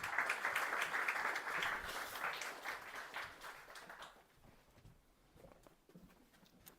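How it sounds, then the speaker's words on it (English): A seated audience at an academic conference's valedictory session claps to welcome the chief guest, a fairly strong burst for about four seconds that fades into a few scattered claps and quiet. "Please join me in welcoming sir with a huge round of applause."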